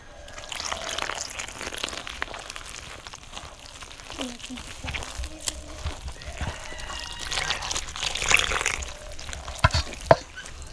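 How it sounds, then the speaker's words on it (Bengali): Gram flour (besan) batter with baking soda is mixed by hand with water, giving soft, wet squelching and stirring sounds close by. The sounds stay fairly quiet, with a voice speaking now and then. "দিয়ে এবার আমি ভালোভাবে জল দিয়ে বেসনটি মাখিয়ে নেব"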